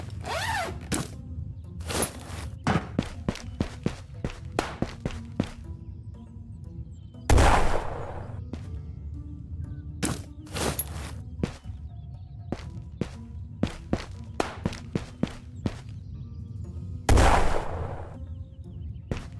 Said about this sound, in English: those grenades are like perfect that I'm throwing